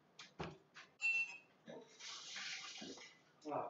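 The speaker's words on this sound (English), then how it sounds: "Wash my hands." Tap water running into a sink during handwashing in a home kitchen, a steady broad hiss for a couple of seconds between brief clatters and short bursts of talk.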